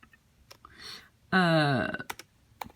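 Typing on a computer keyboard: scattered close, sharp key clicks in irregular bursts, with a short spoken voice passage in the middle.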